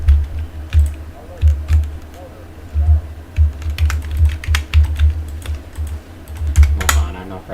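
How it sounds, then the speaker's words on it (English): Rapid, uneven clicking of keys on a computer keyboard during a Halo speedrun, with close taps coming in bursts over a low background hum. "Maybe using keyboard mouse will work."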